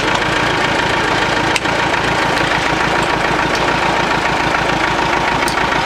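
Tractor diesel engine running at a steady idle close by, with a loud continuous knocking rumble that stays constant throughout, with no talking.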